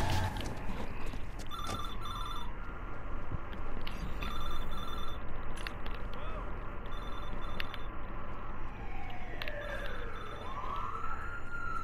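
In the video game Watch Dogs 2, a payphone rings repeatedly in a city street scene, heard alongside a wailing police siren and background traffic.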